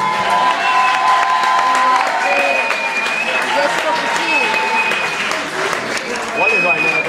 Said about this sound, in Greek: Ένα χειροκρότημα στη θέση.